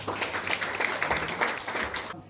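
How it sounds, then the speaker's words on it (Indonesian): Church congregation claps briefly during a sermon, a short burst of moderately loud scattered applause that stops abruptly. "Boleh tepuk tangan untuk kalian."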